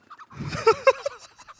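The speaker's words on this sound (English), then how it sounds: "What is with these chickens?" Chickens in the video game CS:GO, on the Inferno map during an Evil Geniuses vs. Gen.G pro league match, give a short burst of close, choppy clucks that rise and fall in quick bursts, alone with no talking.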